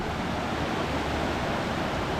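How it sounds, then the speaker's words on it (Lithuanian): A fast-flowing glacial river on the Tour du Mont Blanc roars in a steady, full, close rush of water, unbroken and without voices. "Pažiūrim upę."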